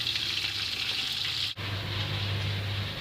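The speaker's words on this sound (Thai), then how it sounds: "เดี๋ยวผมจะทอดให้เสร็จก่อนนะครับ" Fish, a crong-krang type, deep-frying in hot oil with a steady, close hiss and crackle that runs almost the whole time, broken by one very brief silent cut midway.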